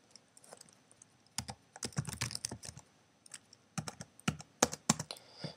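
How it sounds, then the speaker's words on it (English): Quick bursts of keystrokes on a computer keyboard, irregular clusters of clicks with short pauses between, close and fairly quiet. "you can just start typing in your supplies"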